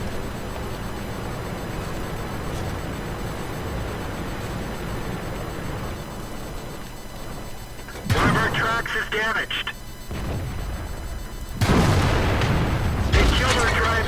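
In World of Tanks, a tank cannon fires amid a steady battlefield rumble, with two loud booming shots arriving several seconds apart, each followed by clattering echoes.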